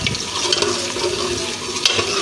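Onions fry in a pan for dhaba-style aloo gobi, giving a continuous close, loud sizzle with a watery hiss and occasional small pops.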